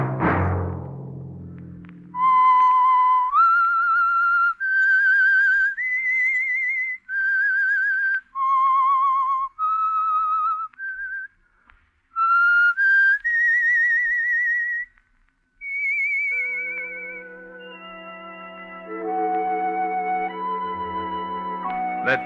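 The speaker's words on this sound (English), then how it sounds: "Let that whistle be your signal for the Signal Oil program, The Whistler" Signature whistle of the Signal Oil radio program The Whistler: a loud, clear solo whistled melody of sustained tones stepping up and down, briefly broken, followed by orchestral music swelling beneath it.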